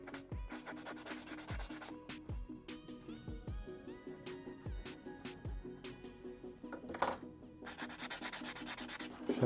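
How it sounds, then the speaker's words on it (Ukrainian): Sandpaper rubs over a carved PVC fishing lure copy modeled on the Jackall Tiny Magallon, producing close, continuous scratchy strokes in an uneven rhythm with occasional louder bursts of friction. "Ще відшліфував,"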